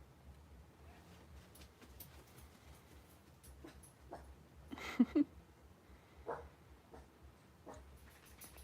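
Dogs barking at a visitor outside, a few short sharp bursts around the middle, fairly distant and indoors, over a low household hum with no talking.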